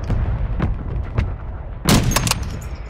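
Gunfire in Call of Duty: Warzone 2 Resurgence, scattered single shots followed by a louder, sharper cluster of cracks and booms, with no talk.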